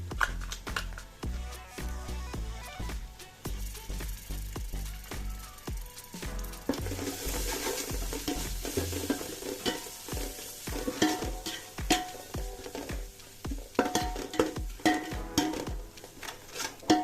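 Ginger garlic paste sizzling and frying in a pot while a spoon stirs it, producing continuous crackling sizzle broken by repeated scraping, clattering stirring strokes, close up with no talking.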